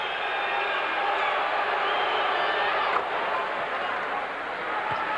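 A basketball arena crowd during free throws in Game 5 of the 1992 NBA Eastern Conference Semifinals, New York Knicks at Chicago Bulls: a dense, steady roar of many voices, fairly loud and continuous, with a commentator talking over it.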